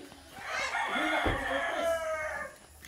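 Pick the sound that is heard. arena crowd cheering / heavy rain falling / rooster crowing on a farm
rooster crowing on a farm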